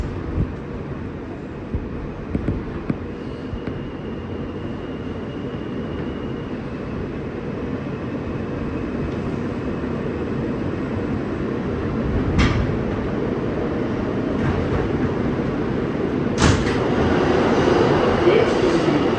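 An R160 E train on the New York subway runs along its line with a steady, rumbling rail roar, broken by a few sharp clanks and rattles near the end.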